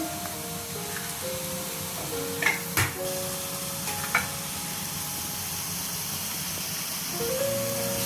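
Beaten eggs hit a hot griddle of shrimp kothu roti in a steady sizzle, punctuated by a few sharp metal clinks of a spatula, with no talking.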